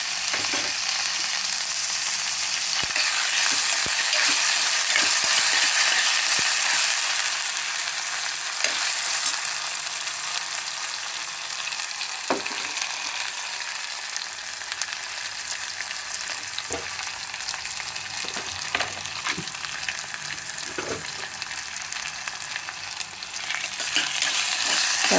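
Tomatoes frying in a pan for brinjal masala curry with ginja chikkudu and potato, a continuous bright sizzle broken by the scrape and clatter of stirring.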